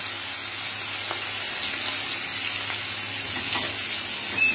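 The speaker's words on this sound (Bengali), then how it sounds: "আমি কড়াইতে তেল বসিয়ে দিয়েছি, তেল গরম হয়ে গেছে। এবার আমি চিংড়ি মাছগুলো ভেজে নেব।" Prawns fry in hot oil in a wok, giving a steady, even sizzle close by with faint crackles throughout and no voices.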